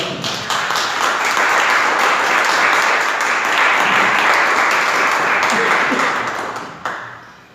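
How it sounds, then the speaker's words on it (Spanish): A church congregation breaks into loud, sustained applause, many hands clapping together for several seconds before it fades and stops abruptly. "Dale un aplauso al Señor."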